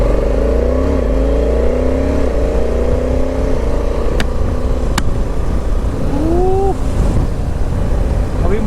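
A motorcycle speeds along a coastal highway with a loud, steady engine drone and heavy wind rush, the pitch rising and falling as it accelerates, with brief passing tones from other traffic.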